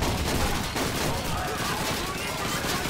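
Bursts of gunfire in the World War II shooter Call of Duty 2 crackle steadily throughout, dense and fairly loud, with overlapping shots layered over continuous battlefield noise.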